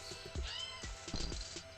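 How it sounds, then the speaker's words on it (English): A cartoon kitten meows repeatedly in the puzzle game There Is No Game: Wrong Dimension, a string of short, bright, close mews at an irregular pace over a steady musical background. "I have a feeling this kitten is asking us to help him out"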